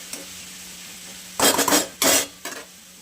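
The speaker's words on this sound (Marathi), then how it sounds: "आता कांदा परतू देणार आहे आपण." Chopped onion sautéing in a pan: three loud bursts of spatula scraping and clattering against the metal over a faint background sizzle, close up, with no voices.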